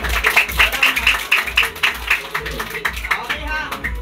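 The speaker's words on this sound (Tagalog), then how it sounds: "O, palakpak na kayo." Children clap along at a birthday party in a steady, fairly quick rhythm of claps, close and lively, with a voice talking over them.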